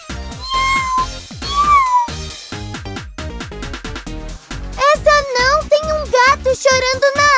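A voice imitates a cartoon cat in a children's cartoon, giving repeated bright, wavering meows, close and loud, with lively music and chiming accents between them.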